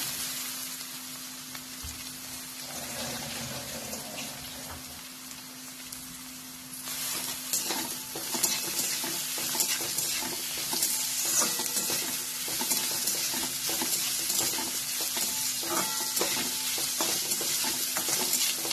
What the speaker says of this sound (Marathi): चांगलं हलवून घ्यायचं